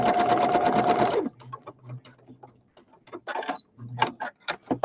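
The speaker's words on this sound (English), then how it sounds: "I'll sew across and I'll stop at 1/4." A sewing machine stitches across fabric with a fast, loud mechanical whir for just over a second, then stops, followed by quiet handling noises and brief talking.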